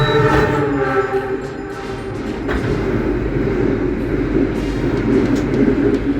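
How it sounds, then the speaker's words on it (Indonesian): The KA Bima express, running from Jakarta Gambir to Surabaya Gubeng, rushes past close by with a loud, sustained rumble and rattle of wheels and carriages lasting several seconds. "Baru saja melintas langsung kereta api Bima keberangkatan awal stasiun Jakarta Gambir menuju Surabaya Gubeng"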